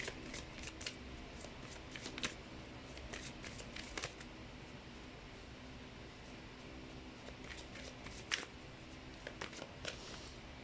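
Earth Magic Oracle cards shuffled by hand, a steady close riffle of rapid papery flicks with louder snaps in bursts, over faint room hiss.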